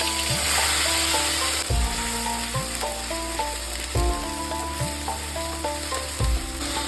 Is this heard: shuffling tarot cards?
no